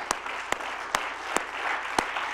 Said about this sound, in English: Would you give the Lord a clap offering?